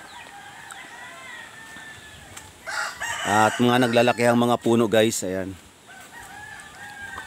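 A rooster crows loudly and close by for about two seconds amid other farm chickens in a rural spot near rice fields, with someone speaking before and after.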